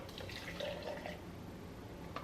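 Espresso poured from a portable espresso maker into a jar, a soft steady liquid trickle, close and faint, with no talk.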